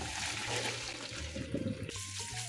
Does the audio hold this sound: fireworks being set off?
no